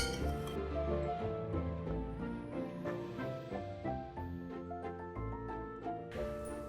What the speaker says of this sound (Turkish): Şekerimizi karıştırarak eritiyoruz.